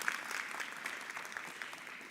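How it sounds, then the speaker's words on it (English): Applause from an audience at a logistics and transport summit, NEV Summit 2025, a steady, fairly faint wash of many hands clapping throughout with no voices over it. "If we could give a round of applause,"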